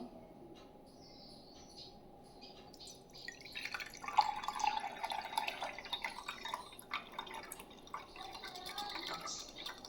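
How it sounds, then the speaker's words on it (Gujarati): Water poured slowly into a container beside a burning candle, a soft trickling and dripping that rises in the middle and continues to the end, faint and close against a quiet background. "જે મીણબત્તીને આપણે સળગાવી છે હવે એમાં પાણી ભરશું"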